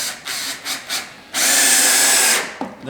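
A cordless drill whirs in a few short bursts, then runs steadily at full speed for over a second before spinning down, close by.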